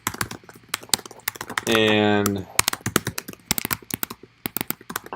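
Fingers type a name and email address on a computer keyboard, rapid uneven clicks under a voice, broken by a short steady electronic tone partway through.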